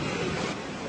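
Storm surf from giant waves striking the French coast at Saint-Malo, a steady loud broadband roar of crashing water mixed with wind noise buffeting the microphone, with no voices.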